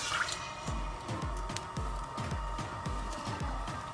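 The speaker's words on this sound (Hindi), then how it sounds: "एक पतीले में मैं 1 प्याली भर के तेल डालूंगी" A cupful of cooking oil poured into a cooking pot for potato and egg curry gives a close series of regular glugging splashes, about eight evenly spaced pulses, with no voices.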